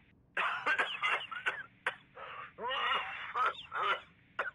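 A video game character coughs repeatedly in harsh, raspy bursts with short pauses between them, close and fairly loud, with strained breaths in between.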